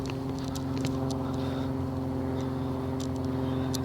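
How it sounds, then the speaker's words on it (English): An airplane flies overhead outdoors, a low, steady, fairly faint engine drone that holds evenly throughout, with a few small incidental noises on top. "there's another plane"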